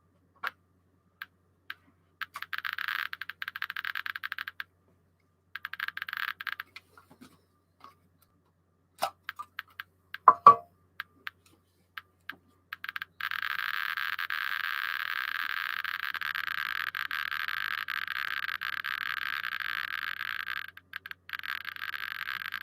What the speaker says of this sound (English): that's more of a classic Geiger counter sound